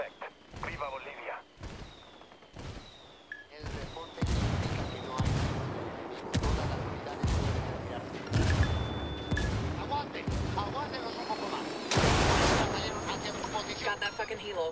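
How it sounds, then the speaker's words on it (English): Rebel artillery barrage called in during a Ghost Recon Wildlands game, a run of heavy booming impacts and blasts spaced about a second apart, with radio-style voices talking over the barrage. "Call the rebels for some indirect fire. Copy that. Fire for effect."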